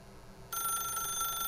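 A telephone rings in The Stanley Parable video game, a bright electronic ring that starts abruptly partway in and holds steady and loud to the end, with no one speaking.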